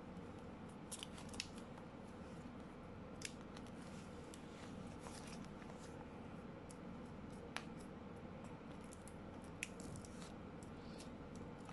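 Scissors snip paper shapes for a salt painting craft, giving a steady run of soft, close cuts with a few sharper clicks, set against a faint room background.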